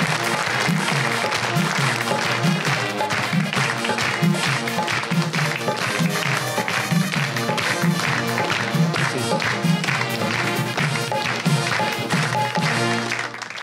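A studio audience at an Eid-ul-Adha special television show claps and applauds continuously for over ten seconds, a dense steady patter with music playing underneath.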